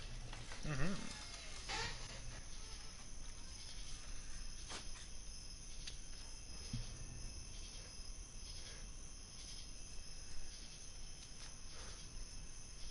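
Crickets chirp steadily outside on a front porch at night, a continuous high, faint insect trill running under the whole stretch, with a few soft thumps and distant sounds mixed in.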